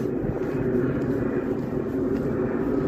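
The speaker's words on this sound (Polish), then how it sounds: "O, leci samolot." An airplane passes overhead on a foggy, cold evening in a park, a steady low engine drone that stays even and fairly loud throughout, with no talk.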